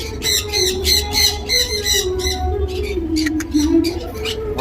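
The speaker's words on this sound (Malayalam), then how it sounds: "ഇതിലെ കിളികളൊക്കെ ഉണ്ട്." Birds squawk loudly and repeatedly inside an aviary at a paid visitor attraction in Kollam, with harsh overlapping calls continuing throughout over steady background crowd noise.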